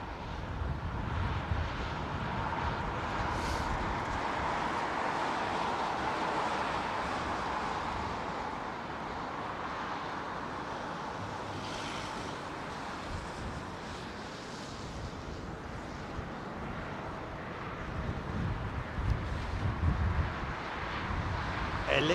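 An Aer Lingus airliner arriving on runway 27R at Heathrow gives a long, broad roar that holds steady and then swells again near the end, with someone speaking at times.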